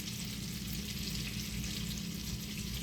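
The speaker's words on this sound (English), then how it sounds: "You need to cook the onions on this one." Onions for a burger frying on a hot surface, producing a dense, even sizzle that holds steady and close throughout.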